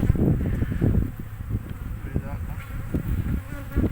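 Honeybees hum steadily around an open hive colony during an inspection, a dense close buzzing that runs throughout, with someone talking over it.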